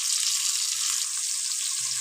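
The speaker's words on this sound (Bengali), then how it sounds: "তেলের মধ্যে টুকরো করে কেটে রাখা আলুগুলো দিয়ে দিয়েছি, যেগুলো আমি ভেজে নেবো।" Cut potato pieces frying in hot oil with salt and turmeric for a chicken dak bungalow dish, a steady, close, bright sizzle that hisses evenly throughout with no talking.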